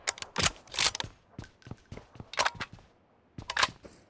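Bursts of gunfire in the PUBG Mobile battle royale, several sharp clusters of shots with mechanical clatter spread irregularly over a few seconds, fairly close and loud, no talk.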